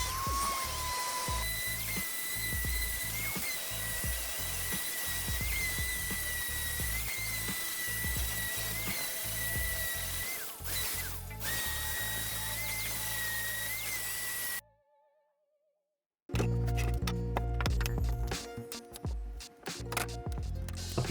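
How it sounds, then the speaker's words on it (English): A power sander whirs steadily on small wooden camping game pieces, a loud close whine with fluctuating pitch as pressure changes, then cuts out into brief silence before a rougher, choppier stretch of sanding resumes; no talk. "It's much easier to sand everything before gluing it up."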